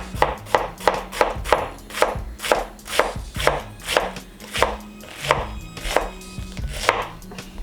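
A knife cuts vegetables into medium-sized ribbons on a cutting board, a regular run of close, crisp chops spaced about half a second apart, with no one speaking.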